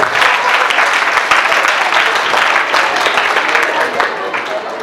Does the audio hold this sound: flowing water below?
no